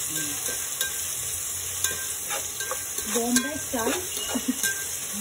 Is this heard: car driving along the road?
no